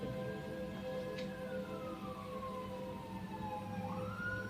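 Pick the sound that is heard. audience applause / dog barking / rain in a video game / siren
siren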